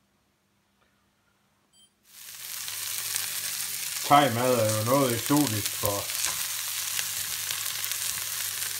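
Broccoli and aubergine sizzle loudly in a hot pan for a Thai red curry with fish, a steady frying hiss that starts abruptly, with stirring clatter and a voice speaking briefly over it.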